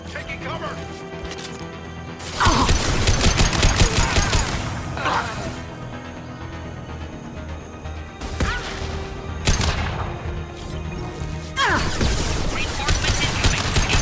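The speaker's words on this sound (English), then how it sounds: "Armed intruders incoming at the southern checkpoint. Taking heavy fire!" Heavy gunfire in Mass Effect 2 during a firefight at a checkpoint on Zorya, loud bursts of shots and crashes recurring across the span, with voices talking over the combat.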